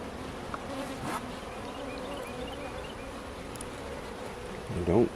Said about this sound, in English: There's one of those big bees that,